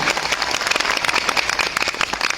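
Audience applause for honored guests Dr. Bhimsen Gurung and Indira Gurung at a Nepali event, a dense steady burst of many hands clapping throughout, fairly loud and close, with no talk over it.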